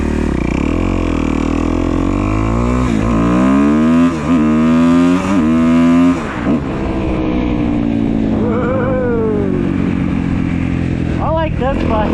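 A 2015 Kawasaki KX250F dirt bike idles in gear with the clutch pulled in, a loud, close, steady four-stroke engine drone with slight pitch wobbles, ending in a couple of short revs.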